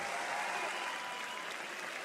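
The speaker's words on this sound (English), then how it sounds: "can we get a huge round of applause and a cheer for GH Enigma Galaxy" Arena crowd at The International 2025 Dota 2 tournament applauding and cheering, a dense, steady roar of clapping and voices filling the whole stretch without pause.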